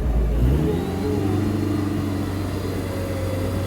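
A car engine revs and holds at a steady high idle while powering a winch, loud and close, with a whirring winch drone underneath throughout.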